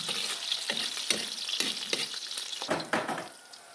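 Onion and garlic sauté in a pan with a bright, continuous sizzle, broken by repeated stirring scrapes at an uneven rhythm, close and fairly loud with no voices.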